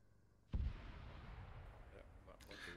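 Explosive charge detonating in the combat game ARMA 3, a single sudden low boom that rolls into a lingering rumble, heard faintly under quiet background chatter from the players.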